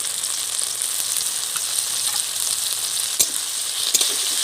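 Tomatoes with salt frying in a pan, a steady loud sizzle with a couple of sharp scraping knocks from stirring.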